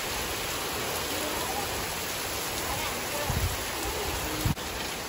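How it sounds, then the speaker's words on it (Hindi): Heavy rain pours outside on a dark afternoon near a factory, a dense, loud and steady hiss with a few brief thumps near the end. "तो गाइस देखो कितनी ज़ोरों से बारिश आ रही है।"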